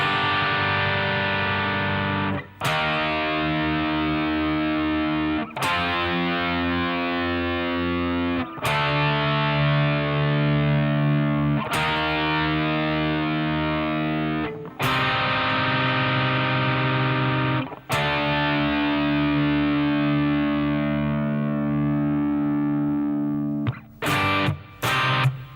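Distorted electric guitar playing a classic rock lick, loud and sustained with several short breaks between phrases, ending in a few quick stabs, no talking.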